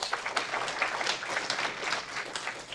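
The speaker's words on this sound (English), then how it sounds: "Let's give them a round of applause" An Aurora city council meeting audience applauds in honour of Mutual Ground's 50th anniversary, a sustained, fairly close patter of many hands clapping in an indoor chamber.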